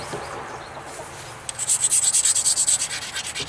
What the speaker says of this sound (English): every time I make a pass, I'm grinding.